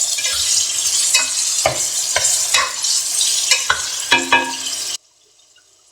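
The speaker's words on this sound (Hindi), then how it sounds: "चिकन को आपने फ्राई करना है।" Chicken sizzles steadily in a hot pan while a utensil scrapes and stirs in repeated strokes, then the sound cuts off abruptly.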